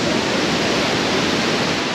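Class 5 river rapids rush in a loud, steady roar of churning whitewater, broadband and unbroken throughout, with no voices.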